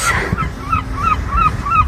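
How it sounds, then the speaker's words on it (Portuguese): Seagulls calling on the North Sea shore at Sainte-Adresse in a sheltered bay, a close, loud series of five or six repeated squawking cries in steady rhythm over a low outdoor rumble. "Gritinho das gaivotas."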